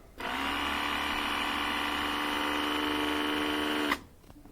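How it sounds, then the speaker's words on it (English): A rebuilt electric lawn mower motor hums steadily at full speed for about four seconds, with a strong whine carrying many tones, starting abruptly and cutting off sharply near the end. "We got it powered up. Let's see if the motor's going to be okay."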